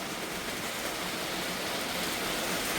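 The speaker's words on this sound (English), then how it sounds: "Listen how good it's raining." Steady, dense hiss of heavy rain pouring down outdoors in northern Saskatchewan, a constant broadband wash with no breaks and no voices.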